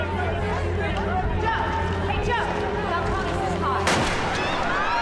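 Gunfire in a scene from the film Batman Begins, with a sharp loud shot near the end cutting through a busy soundtrack of voices and movement, and people talking throughout.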